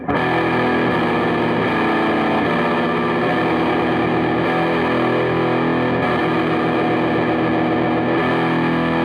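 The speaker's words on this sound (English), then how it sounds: "it's fun to play microtonal guitar with heavy distortion" A loud, heavily distorted electric guitar drones with thick sustained chords and slight shifts in pitch, unbroken throughout with no voices.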